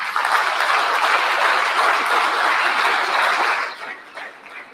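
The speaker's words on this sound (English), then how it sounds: "Give yourself another big round of applause for coming out tonight." An audience at an evening lecture event applauds itself, a dense close wash of clapping that holds steady, then thins and fades over the last second.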